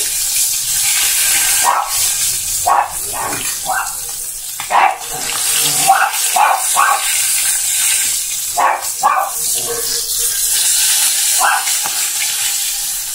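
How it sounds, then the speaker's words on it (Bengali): A catla fish head fries in hot oil on a medium flame, giving a steady hiss with scattered sizzling crackles and pops throughout. The sound is close and continuous. "কাতলা মাছের মাথা ভালো করে সুন্দর করে ভাজা করে নেব"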